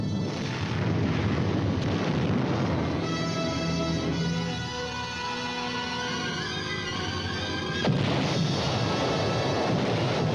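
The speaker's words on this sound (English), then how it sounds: "First, heavy preparatory fire to soften up the objective." Heavy preparatory artillery bombardment before an amphibious landing, heard as a dense, continuous rumbling roar of distant guns and explosions that swells and rolls without letting up, with a sharper burst near the end.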